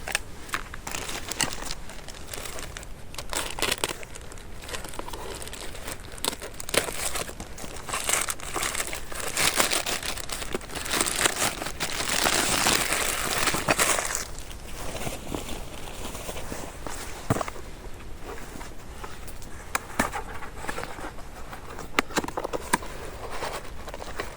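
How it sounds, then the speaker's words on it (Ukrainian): Packaging crinkles and rustles steadily while a parcel is unpacked indoors, with scattered tearing and handling noises, close and fairly loud, no talking. "Так, розпаковую посилку."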